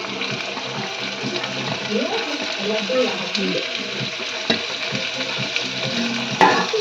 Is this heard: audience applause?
no